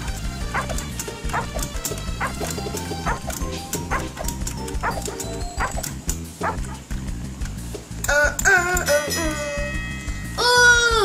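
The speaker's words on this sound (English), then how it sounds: "How is it a dog sound now?" Dog barking and yipping sound effect in the Roblox game Super Bomb Survival, loud repeated barks and whimpers in quick irregular bursts over busy game music and noise.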